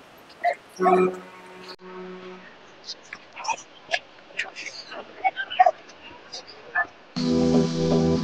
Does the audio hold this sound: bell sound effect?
no